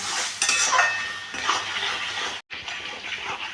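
Potatoes being stir-fried with spices in a pan, heard as steady clattering and scraping of a utensil against the pan over a soft wet sizzle, close and continuous with a brief drop out midway.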